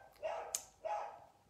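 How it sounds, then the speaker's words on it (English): A neighbouring dog barks twice from next door, two faint, somewhat distant woofs about half a second apart in an otherwise quiet room. "Sorry about the dog next door"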